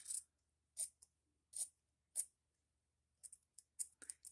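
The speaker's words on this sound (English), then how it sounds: "So we're just going to cut a little bit off of it." Scissors snip through a stretchy sock in a series of short, crisp cuts, a few spaced evenly at first and then a quicker cluster near the end, close and clear in a quiet room.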